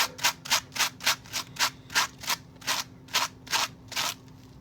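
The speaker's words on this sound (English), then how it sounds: "So we're going to try to do it with the heavier abrasive." Heavier abrasive rubbed in quick, regular back-and-forth strokes against a decal on a plastic Barbie accessory, about a dozen close, crisp scrubbing passes with no talking.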